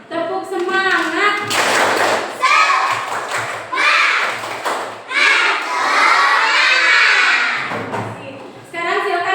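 Schoolchildren in a classroom perform a chanted spirit clap, their shouted voices alternating with bursts of rhythmic clapping and thumps, loud and close, the chant and claps trading back and forth.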